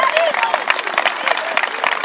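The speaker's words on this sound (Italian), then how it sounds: "un applauso ragazzi della Giorno 1920!" Crowd applause for a youth football team of under-11 players at a memorial tournament, brisk clapping from parents alongside excited voices and chatter over the short stretch.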